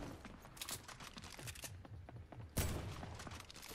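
Rapid gunfire in Fortnite, a quick run of sharp shots in steady succession, then a heavier, louder blast with a rumbling tail near the end.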